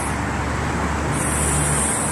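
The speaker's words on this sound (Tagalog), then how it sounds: "Ito na yung bus." City bus pulling in at a stop in the UAE, a steady broadband engine and road rumble with a thin high whine rising partway through, heard up close in busy street ambience without talk.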